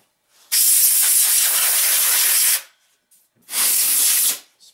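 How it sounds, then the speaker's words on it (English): Compressed air sprays dust out of a desktop computer with its fans held still: two loud, sharp hissing bursts, the first about two seconds long, then a brief pause and a shorter second blast, heard alone. "So hold the fans from spinning and spray some air in."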